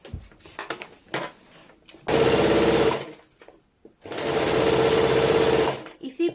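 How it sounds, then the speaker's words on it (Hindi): An electric sewing machine double-stitching a plazo trouser seam runs in two loud, steady bursts of about a second and two seconds, separated by a brief pause, with quieter handling clicks before and after. "हम लोग उलट के फिर से डबल सिलाई डाल देंगे"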